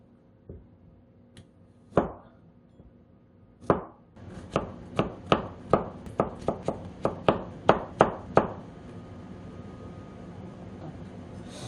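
Knife chopping food on a cutting board in a home kitchen, a few slow single cuts, then a steady run of sharp, evenly spaced chops close by that stops and leaves faint room noise.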